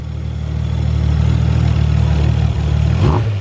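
A freshly built Nissan RB26 single-turbo engine idles on its first start, a steady, close, loud low rumble with a brief small blip near the end.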